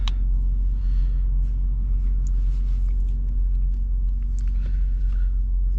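A 2020 BMW X3M SUV's engine gives a steady, deep low rumble heard from inside the cabin while driving at night, with faint road noise and no talking.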